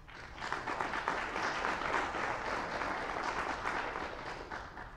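A conference keynote crowd applauding steadily, dense clapping that swells briefly and holds at an even level before tapering slightly.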